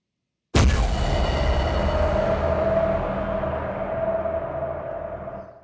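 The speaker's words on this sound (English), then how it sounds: "I'll just preview that moment of impact sound again." A sudden sharp bang like a gunshot, followed by a long ringing tail with a sustained metallic tone that slowly fades over several seconds.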